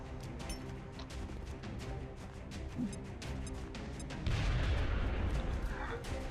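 A grenade goes off in the XCOM: Enemy Unknown strategy game: a heavy, rumbling boom swells near the end, following a steady run of sharp crackling bursts like distant gunfire.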